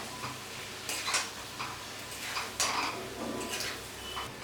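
Mashed boiled jackfruit seeds frying with spices in a pan, a soft continuous crackle broken by irregular scraping stir strokes and faint ticks, moderately close.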